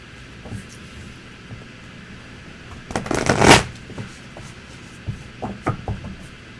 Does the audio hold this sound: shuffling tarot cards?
yes